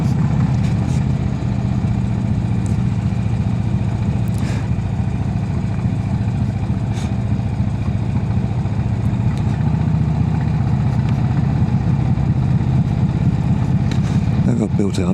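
A Brough Superior motorcycle rides steadily along a road after more than a thousand miles, its engine a loud, continuous low drone with the rumble of wind, and no one speaking.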